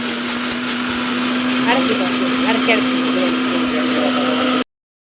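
A mixer grinder grinding coconut-style chutney runs loud and steady with a constant motor whine and churning, uninterrupted until it stops abruptly near the end.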